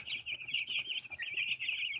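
Hens and one young light-coloured rooster chick chirp and cluck continuously at close range, a busy chorus of high peeping calls with no talking.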